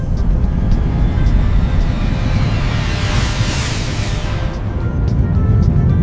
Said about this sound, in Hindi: प्यारे बच्चों देखो एरोप्लेन।